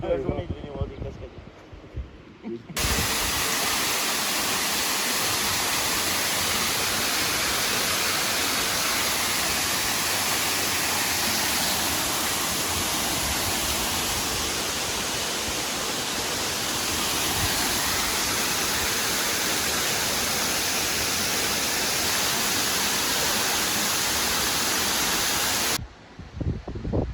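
A waterfall in a national park west of Sydney pours as a steady, loud broadband rush that fills the whole stretch, fading in and out at the ends.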